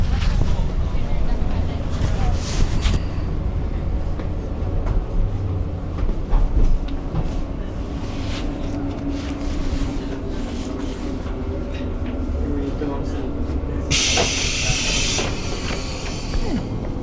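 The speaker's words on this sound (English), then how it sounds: "The train is leaving" A local train on a Yamaguchi rail line pulls out of Kushigahama station with a continuous loud rumble and rattle of wheels and engine, a brief hiss near the end, and a voice talking over it.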